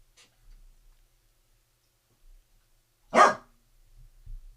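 A dog indoors gives one sharp, loud bark, with scattered faint thumps and rustles around it and no talking.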